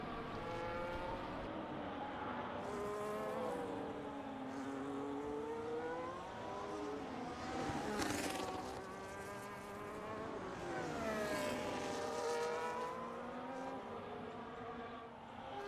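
Formula racing cars in a sim-racing league race at Brazil, including a Williams and a Ferrari, scream past one after another: high-revving engines rise and fall with Doppler sweeps, several passes overlapping, loud and continuous.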